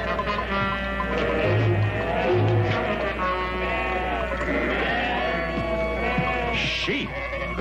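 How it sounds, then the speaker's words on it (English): Sheep bleat repeatedly on open cattle range, several overlapping calls near and far over a steady low background hum, with no talk. "Sheep?"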